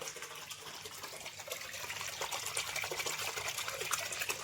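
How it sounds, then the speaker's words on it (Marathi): Steady rushing of water pouring down a small fall, a continuous bright hiss with a faint low hum beneath, fairly close and unbroken throughout. "धबधबा दावायचा राहील इकडं बघा हे आहे धबधबा"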